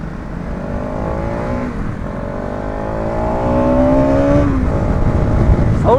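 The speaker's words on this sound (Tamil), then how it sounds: "இது ட்ரையம்ப் T4 ட்ரையம்ப் T4 இது நல்லாயிருக்கும் வண்டி." A Triumph T4 400 motorcycle engine runs loud and close, its pitch sliding upward as it revs, then drops briefly before climbing again.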